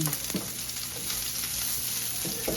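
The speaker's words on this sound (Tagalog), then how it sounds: "Haluin ulit para mag-golden brown na sila." Onion and garlic frying in a pan while being stirred, giving a continuous close sizzle with a few soft spoon scrapes and no talking.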